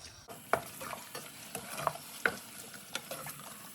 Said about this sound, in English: the salmon now needs to cook for a few minutes